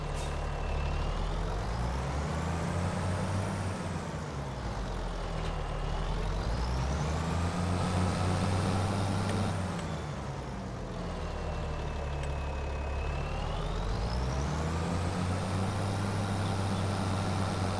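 A tractor engine in Farming Simulator 25 drones loudly and continuously as the tractor drives out to mow, its pitch rising and falling in repeated slow cycles.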